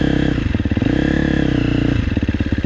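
Dirt bike engine idling in first gear as the throttle is blipped and the clutch engages, a close, loud, chugging mid-pitched putter that rises and falls with the revs, no talking.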